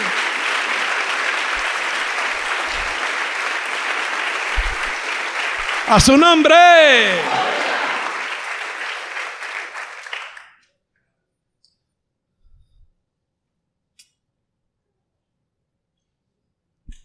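Congregation applause during a church sermon, a loud continuous wash of clapping and cheering for about ten seconds with a voice rising over it midway, then silence with a few faint knocks.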